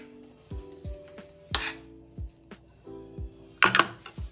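Chopped fruit for a fruit salad payasam tipped from a dish into a pot, with a series of close clinks and taps of metal utensils and two louder rattling clatters, no talk.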